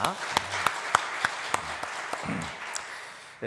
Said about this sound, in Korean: 우리 감사의 박수를 한번 보내주시길 바랍니다